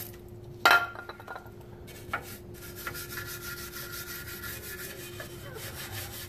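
Scratchy wire brushing on the brake cylinder area of a 1959 Cadillac DeVille, a sharp clank at the start followed by uneven rubbing and scraping strokes at close range, with a faint steady hum underneath.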